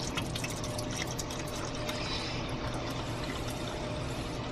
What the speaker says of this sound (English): Turn on the hot water, make sure it's nice and hot